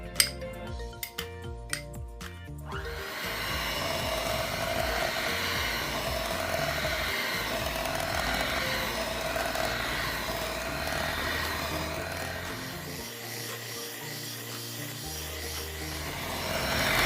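Electric mixer blending oatmeal raisin cookie batter with vanilla and molasses, a steady loud whirring hum with clinks of the beaters against the bowl, running continuously after a few brief knocks at the start.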